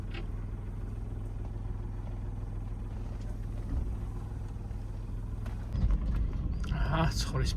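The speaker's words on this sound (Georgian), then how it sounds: "ცხვრის ფარა." A flock of sheep passes along a rural road in Kakheti, Georgia, its hooves clattering steadily over a constant low vehicle rumble, growing louder and closer in the final seconds.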